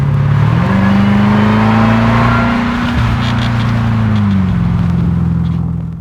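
A 2021 Dodge Durango SRT Hellcat at full throttle, a loud close engine roar that climbs in pitch, holds and then dips and settles, with no talking.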